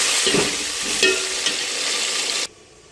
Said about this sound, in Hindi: अब इसको थोड़ा सा भून लेंगे